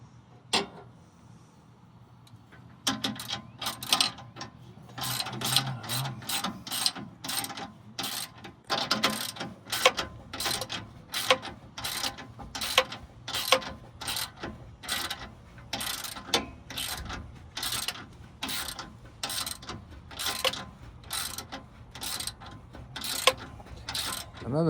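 Hand tools clicking while the shield is refitted on a Duramax pickup, a long run of sharp rapid ratchet clicks in bursts, fairly close, over a quiet background.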